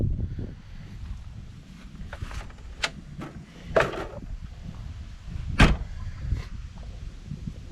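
A screen door on an Escapade Backcountry X camper trailer with a fiberglass exterior is moved and closed, giving several close clicks and knocks and one sharp bang over rustling handling noise.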